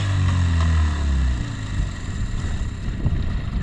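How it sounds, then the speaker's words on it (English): A small boat's outboard engine on a Belize lagoon revs loudly up close, its low drone dropping back to a rougher idle with wind buffeting the microphone. "so Lloyd's revving that bad baby up"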